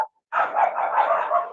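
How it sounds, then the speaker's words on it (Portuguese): A dog barks in a sustained, slightly wavering burst after a brief silence, heard through an online meeting's audio at moderate loudness, with no speech over it. "O cachorro parou de latir."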